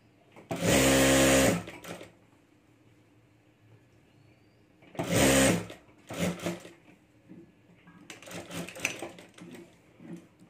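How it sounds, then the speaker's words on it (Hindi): A sewing machine stitching the joined lining pieces of a potli bag, running in three distinct bursts separated by quiet pauses, with a fainter, rougher stretch near the end; close and fairly loud, no speech. "यहाँ तक हमें सिलाई करनी, यहाँ से हमें खुला रखना है।"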